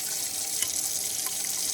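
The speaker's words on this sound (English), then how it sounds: "try to run a whole bunch of water through that hole" Water rushes steadily through a small clogged hole in a dishwasher spray arm, a constant hissing splash like a faucet running into a sink, close and unbroken.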